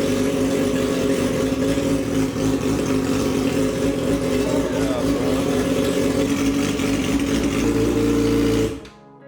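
A straight-piped sport motorcycle engine in a garage cold-starts and runs loud and steady at a rough idle, a low droning roar that holds for about eight seconds before cutting off abruptly.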